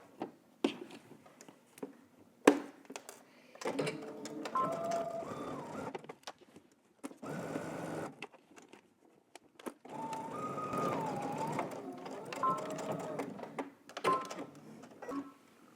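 A home sewing machine stitches a 5/8-inch seam on a Simplicity garment pattern in several short, quiet runs of humming motor whine, separated by pauses and soft handling clicks.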